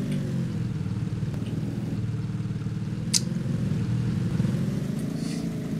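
Engine of an off-roader vehicle in a driving video game, a steady low rumbling drone holding level throughout, with a brief high click partway through and no talking.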